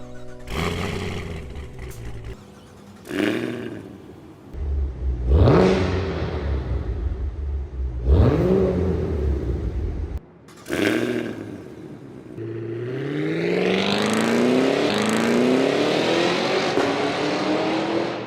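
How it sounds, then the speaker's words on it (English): A powerful supercharged luxury SUV engine revs hard in repeated bursts, each rising roar followed by a drop, then a long climbing acceleration with a high supercharger whine over throaty quad-tip exhaust. "quad tips, and the unmistakable supercharger whine"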